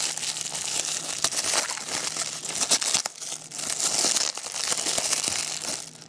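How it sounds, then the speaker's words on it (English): Crinkling and crumpling of wrapping on a mailed package of crafting goodies as it is unwrapped close by, with sharp tearing snaps scattered through a continuous rustle and no talking. "And I'm going to unwrap my goodies."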